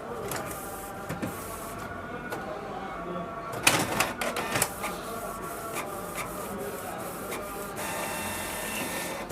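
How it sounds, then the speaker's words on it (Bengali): A Canon G2010 inkjet printer runs a test page, giving a steady mechanical whir broken by several sharp clicks and clunks of the paper feed, close and moderately loud, with a voice speaking at times over it. "এখানে যদি আপনারা টেস্ট প্রিন্টটা দেন প্রিন্ট বের হয়ে যাবে"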